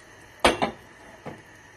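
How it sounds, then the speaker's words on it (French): Pasta tipped into a pan of small-cut courgette pieces and stirred for macaroni with basil: two close clattering knocks, then one softer knock a moment later, with no talk. "Je rajoute mes pâtes, je mélange."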